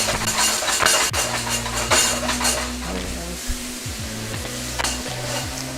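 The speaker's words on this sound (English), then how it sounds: "I'm gonna start tossing this steak." Steak tossed and stir-fried in a very hot wok, a loud steady sizzle with repeated scraping and clanking of the pan and the low rumble of a burner underneath.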